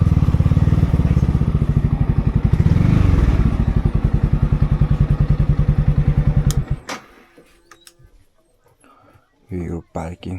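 A motorcycle engine thumps loudly and rhythmically up close as the bike arrives, then cuts off for parking, followed by quieter clatter and a few short bursts of sound.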